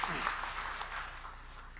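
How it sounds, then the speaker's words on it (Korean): Applause from a church congregation, a dense wash of clapping held steady and fairly soft, with no voices over it. "박수로 하나님께 영광 돌리겠습니다"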